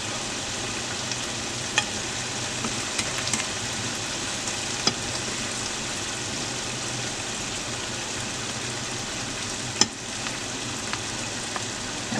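Collard greens fry in a pan for Liberian-style fried greens, giving a steady close sizzle with soft crackle and a few faint clicks throughout, and no voices.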